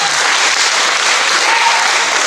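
A church congregation claps during a sermon at a Filipino worship service, producing a dense, loud, continuous burst of applause from a crowd of people.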